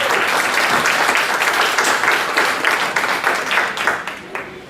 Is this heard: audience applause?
yes